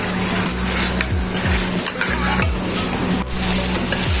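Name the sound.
mutton trotters being roasted and stirred in a pan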